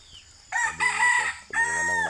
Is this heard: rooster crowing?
yes